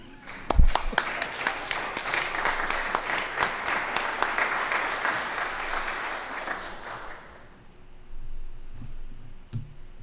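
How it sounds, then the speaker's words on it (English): A church congregation claps for the choir during a worship service, the applause building from a few sharp claps into a full round before dying away, leaving a quiet room with faint sounds. "I think we need to clap for the wonder of a choir"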